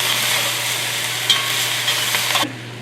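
Tomatillos, garlic, pepper and seasoning sizzling in a hot pan for venison black bean chili verde: a loud, constant frying hiss with faint stirring scrapes, cutting off abruptly near the end.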